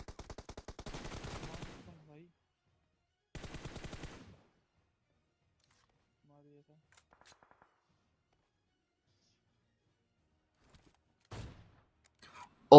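Bursts of gunfire in the BGMI battle royale game: two short rapid volleys near the start, then near silence, with a couple of isolated sharp shots toward the end.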